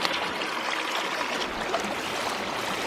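Water pumped by an 1100 gallon-per-hour bilge pump rushes through a Gold Hog multi-sluice, a dense, steady close wash of flowing water with no talk.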